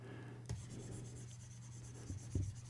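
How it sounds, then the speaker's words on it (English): Quiet scratchy rubbing of an eraser wiping writing off a board during a math lesson, with a few brief taps and strokes over a low hum. "let me erase some stuff here"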